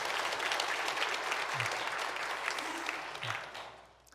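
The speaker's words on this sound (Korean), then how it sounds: "뜨거운 박수로 예배 시간이지만 한번 감사하겠습니다" A church congregation applauds warmly during a Sunday worship service after the choir's performance, a steady wash of many hands clapping that fades toward the end, with faint low murmurs underneath.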